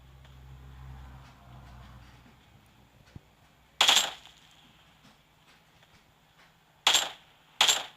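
Gunfire in the mobile battle royale game PUBG Mobile cracks out in three sharp bursts over quiet ambient game sound, each burst short and loud.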